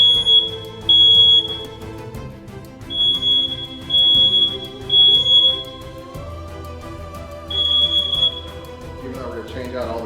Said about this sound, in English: Test the new carbon monoxide detector.